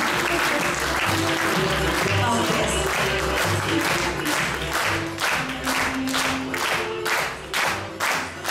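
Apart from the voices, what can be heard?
loud audience applause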